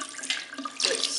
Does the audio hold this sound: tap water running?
yes